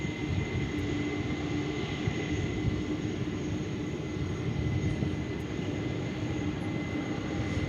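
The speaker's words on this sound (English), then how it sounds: "Yeah, it is a fickle thing being on the world's biggest commercial airplane, Lummy." A large commercial airliner passes at DFW International Airport, a loud, steady, close jet roar with a sustained engine whine and no voices.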